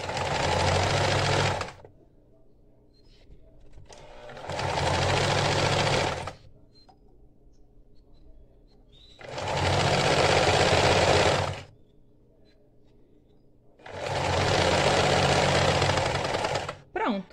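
A sewing machine stitches lace on a bra in four long bursts of rapid, steady mechanical clatter, close by, separated by quiet pauses.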